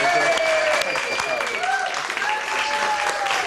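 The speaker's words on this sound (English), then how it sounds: "Give them a round of applause." A studio audience at a British daytime TV talk show claps steadily for three and a half seconds, a dense wash of applause with a voice or tune riding faintly over it.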